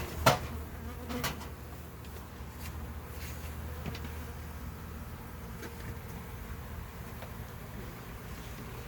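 Honey bees buzz steadily around an opened hive during a removal, a continuous insect drone with a few sharper knocks and thumps early on.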